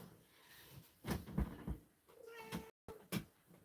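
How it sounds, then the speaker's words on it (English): A cat meows a few times at close range, short nasal cries spaced out over a few seconds, with faint room noise between calls. "Did you hear the cat meow?"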